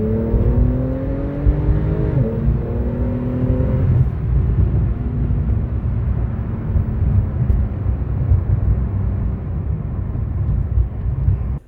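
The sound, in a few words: Porsche 911 S doing a low-speed power slide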